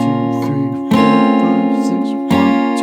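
Guitar line from a song, played in full as a repeating picked phrase with bright, sustained notes and fresh attacks about every second and a half, close and fairly loud with no voices.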